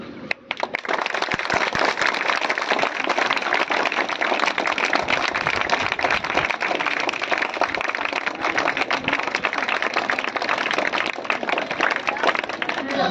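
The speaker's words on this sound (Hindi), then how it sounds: "सभी लड़के एक साथ ताली बजाएंगे।" Boys clapping together at a primary school Republic Day celebration, a dense, steady burst of applause lasting throughout, close and loud with no gaps.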